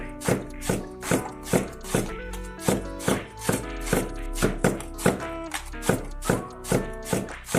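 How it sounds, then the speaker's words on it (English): Knife chopping jalapenos into tiny pieces on a cutting board, with quick, evenly spaced, crisp taps repeating steadily at close range and no talking over them. "I'm also going to cut the jalapenos into tiny pieces"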